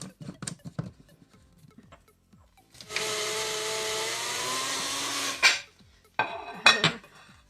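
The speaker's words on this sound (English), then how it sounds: "Put on our little mixer, our little blender here." A small blender whirs steadily for a few seconds mixing a chocolate milkshake smoothie, ringing with a harmonic motor whine, surrounded by clinks and knocks of dishes and utensils.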